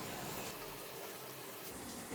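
Water is poured into a mixer jar of ground masala while making Tamil paarai fish gravy, a soft, steady splashing hiss with no voices.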